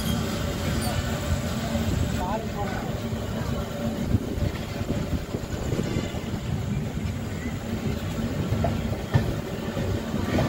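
Lalbagh Superfast special passenger train on the Katpadi to Krishnarajpuram route, recorded from on board as a continuous low rumble of the carriage with faint rail rattle while someone talks.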